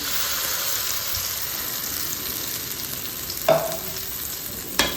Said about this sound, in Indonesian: Kita aduk lagi, kita gongseng lagi sampai benar-benar wangi.